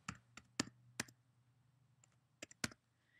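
A password typed on a computer keyboard comes through as a few sparse, quiet key clicks, a pair early, one alone, then another cluster near the end, against a faint steady hum.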